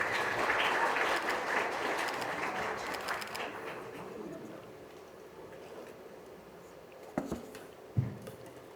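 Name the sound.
wedding guests applauding the officiating pastor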